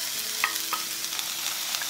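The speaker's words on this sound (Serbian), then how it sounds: "Na zagrejanu mast dodajem ostatak luka" Onion frying in heated pork lard in a pan, a steady broadband sizzle with a few brief scraping stirs, close and fairly quiet throughout with no talking.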